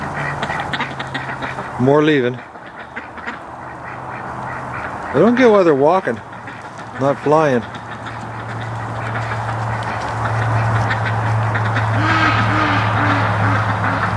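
Muscovy ducks give a few short, raspy, wavering calls in separate bursts, close by over a low engine-like hum, while someone talks between them.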